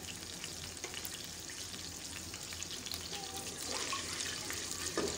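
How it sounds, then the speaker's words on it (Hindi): Chopped onions frying in hot oil with salt, a soft continuous sizzle that grows slightly louder toward the end, with faint clinks and no talk. "और इसी के अंदर हम प्याज डाल देंगे।"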